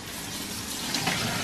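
Tap water runs steadily into a sink while a baby is rinsed, a constant broadband splash at moderate level with no talk over it.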